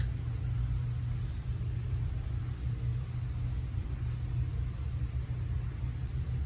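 Steady low rumble of an idling dump truck's Caterpillar engine, a constant deep drone without revs or pauses, moderately quiet and alone.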